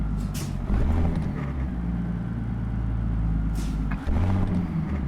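Heavy haul truck in American Truck Simulator, a Ruda 379 8x6 with a Doepker scissor deck: low engine rumble with sharp hissing air brake bursts near the start and again near the end.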